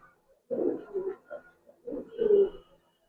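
Giribaz pigeons coo in a few soft, throaty bursts with short pauses between, close by and moderately quiet.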